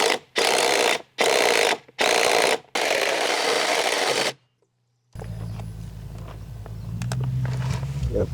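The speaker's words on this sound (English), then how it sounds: "You can use a hole saw or maybe a larger drill bit and just kind of ream it around that hole." A drill bit reaming a 1.25-inch hole wider for an outdoor hydrant spigot gives loud, close whirring bursts with brief gaps, then cuts off into a quieter stretch of low mechanical hum and faint clicks.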